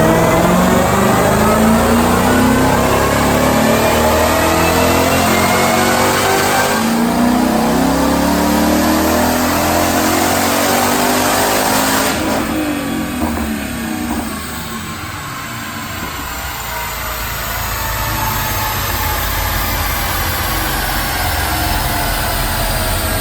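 A powerful 2016 Ford Mustang with a Roush Phase 1 supercharger and Stainless Works exhaust revs hard and continuously on a dyno, its pitch sweeping up through repeated high-rpm pulls, loud and close, with a brief dip midway.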